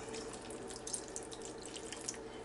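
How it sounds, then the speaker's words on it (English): Steady trickle of water pouring close by into lemon orange bundt cake batter, quiet and continuous with a few small splashes. "Okay, I'm getting ready to add the water."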